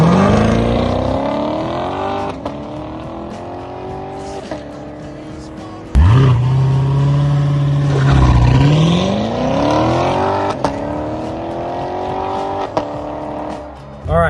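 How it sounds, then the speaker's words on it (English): A C7 Corvette idles at about 2,000 RPM with launch control engaged, then takes off hard when the brake is released. A steady engine drone suddenly surges into a loud, rising acceleration that climbs through the gears. "as soon as I let my foot off the brake, it'll engage the launch control and we'll take off"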